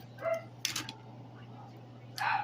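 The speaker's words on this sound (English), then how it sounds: "Sorry for my dogs." Several household dogs give short barks and yips indoors, with bursts near the start and the end and a quieter stretch between them, over a steady low hum.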